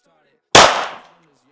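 A single loud, close gunshot from a firearm firing a full metal jacket bullet, a sharp crack with a short decaying tail, otherwise quiet.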